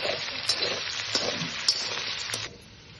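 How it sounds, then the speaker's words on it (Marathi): Potatoes frying in a pan for sabudana usal, a close, steady sizzle broken by a few sharp stirring clacks, fading down near the end. "हे बटाटे टाकून आणि आता ह्याला हलवून घ्यायचं"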